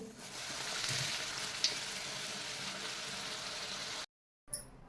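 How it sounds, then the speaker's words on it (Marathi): Wheat flour pooris deep-frying in hot oil give a steady, fairly soft sizzle and hiss with a faint clink near the middle, cut off by a brief silence near the end. "याच पद्धतीने मी माझ्या सर्व पुऱ्या तळून घेणार आहे"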